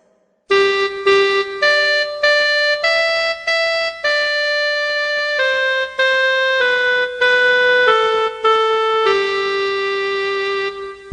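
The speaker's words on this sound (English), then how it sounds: "Next is the mama, called the clarinet." A clarinet plays a bright, close melody of distinct sustained notes in a steady rhythm, solo and fairly loud, with clear reedy tone and no voices.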